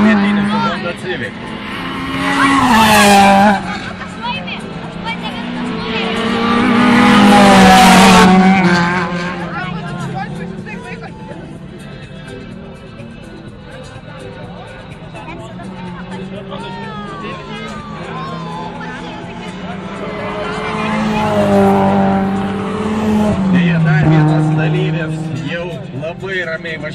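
A Honda Civic rally car races along a stage at a rally event, its engine revving loudly as it passes twice, rising and falling, while a commentator talks throughout and a crowd murmurs in the background.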